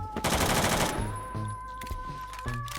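K2 assault rifle fired in Phantom Forces, a rapid automatic burst followed by shorter bursts of shots, loud and close over steady game background tones.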